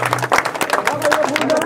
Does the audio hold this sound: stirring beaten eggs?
no